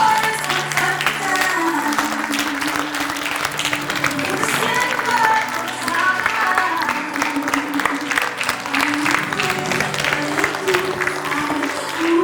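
A large audience applauds steadily as a speaker is welcomed onto the stage at a talk. The dense clapping runs continuously for about twelve seconds, with a murmur of crowd noise underneath.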